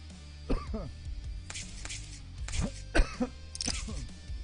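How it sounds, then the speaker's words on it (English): Repeated coughing and throat clearing from a commentator during a poker game broadcast, several harsh bursts spread across a few seconds, close to the microphone, with no clear speech. "Sorry, I couldn't get to my cough button fast enough this time."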